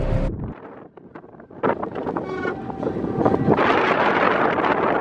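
Steady wind on a boat in Cornwall roars and buffets the microphone, rising louder toward the end, with no voices.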